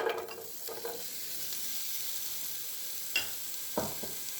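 Sliced onion sizzles in olive oil in a pan, a steady soft frying hiss with a few brief louder stirring scrapes near the start and end.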